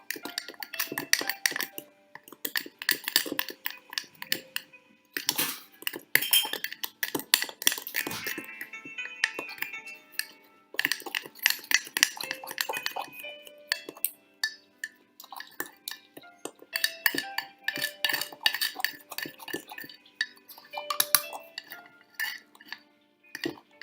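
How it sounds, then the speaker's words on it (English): A spoon stirs mug cake batter, eggless and made from flour, butter and other dry and wet ingredients, inside a mug, giving close, repeated clinks and scrapes against ceramic in quick irregular bursts with short pauses. "Now we are going to mix the flour and the dry ingredients and the wet ingredients together and make a batter."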